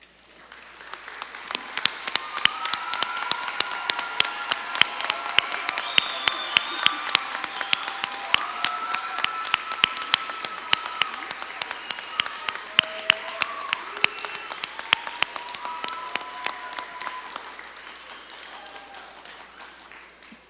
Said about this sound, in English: Now let the rest of us now stand and applaud our graduates.